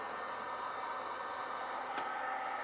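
A heat gun shrinking a butt connector, a steady blowing hiss of hot air running continuously at close range, with no pauses or voices.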